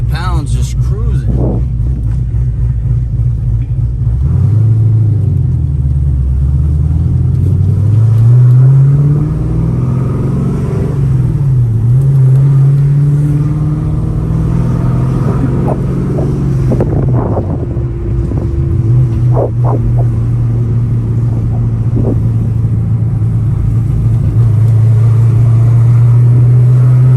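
A built 416 stroker LS3 V8 engine runs with a steady, loud, low rumble whose pitch drifts up and down slightly. Wind noise buffets the microphone throughout.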